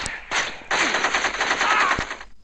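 Rapid bursts of automatic gunfire in a video game, close and loud, in several quick rattling volleys with a brief gap between them.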